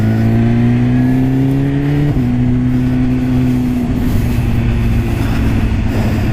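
A BMW S1000RR sports bike pulls hard through the gears during a test ride, its loud, steady engine note climbing and then dropping at a quick shift before rising again, with wind rushing over it.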